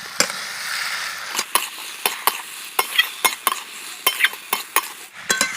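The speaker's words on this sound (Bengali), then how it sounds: "এবার সব কিছু একসাথে নাড়াচাড়া করে নেব।" Fried mung dal and green beans are stirred together in a pan, sharp metal spatula clacks and scrapes landing in a rough repeated rhythm over a soft frying hiss, close and loud, with no speech.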